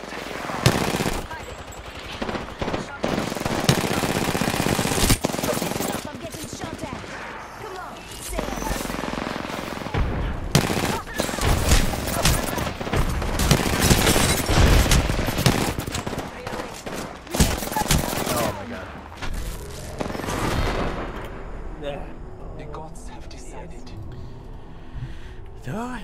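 Rapid automatic gunfire and scattered shots from a match of the battle royale shooter Apex Legends, with dense bursts of fire rising and falling for most of the stretch and a player talking over it.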